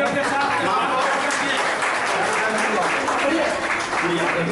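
A crowd at a Bharatiya Janata Party joining event in Giridih applauds: loud, continuous clapping that fills the whole stretch, with voices mixed in beneath it.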